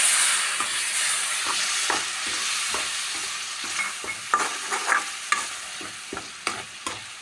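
Blended medium tomato poured into a sizzling curry base in a pan, hissing steadily and loudly at first, then settling as a spoon scrapes and stirs in a run of sharp, regular strokes.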